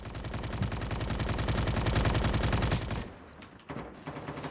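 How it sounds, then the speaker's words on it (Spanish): Sustained rapid automatic gunfire in a shooter video game, a dense loud rattle of shots that runs for about three seconds before breaking off into scattered quieter game sounds. "hay otro más por ahí disparando"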